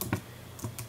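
A computer keyboard is typed on in a few separate clicks and taps, close and fairly quiet, with no talking.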